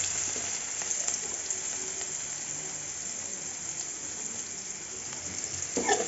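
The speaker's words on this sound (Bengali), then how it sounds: "পেঁয়াজ দেব পরিমাণ মতো।" Sliced onions fry in a kadai of reused frying oil, a continuous soft hiss and crackle heard close and even for the whole stretch, with a slight swell near the end and no voices.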